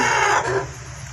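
Pet hens cluck close by in a short burst, a throaty bird call followed by quieter background clucking under a steady ambient hum.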